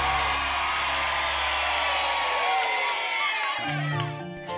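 A crowd cheers and whoops for a stop-motion toy scene, a sustained, lively roar of voices that fades out toward the end as a few other sounds take over.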